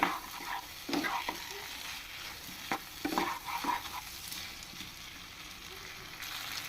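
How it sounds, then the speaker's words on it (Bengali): A spatula works a cashew-almond paste into spices and small new potatoes in a pan, giving soft intermittent scrapes and taps over a faint, low sizzle. "দিয়ে মশলার সাথে আরও একটু মিশিয়ে নিব খুব ভালোভাবে"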